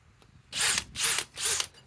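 A DEWALT DCD 805 drill on a 5 amp power stack battery, three short close bursts of high whining motor with a slight pitch rise and fall each time, separated by brief pauses.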